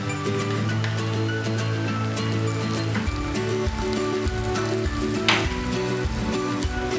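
Crushed ginger and garlic sizzle in a pan with browned onion while cooking prawn rice. A steady, close frying hiss runs throughout, with a low hum underneath.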